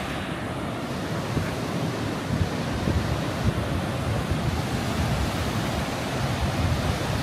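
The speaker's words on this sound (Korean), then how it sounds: "저 파도 봐." Sea waves break on the shore along the coastal path near Deokbongsan in Samcheok, Korea, a loud, continuous, close roar of surf and wind with no voices.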